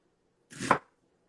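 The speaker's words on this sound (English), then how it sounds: "So I cut it across and then I cut it straight down to make, what we want is uniformity." A single knife stroke chopping through an onion on a cutting board, a short close thunk with a crisp crunch, alone against silence.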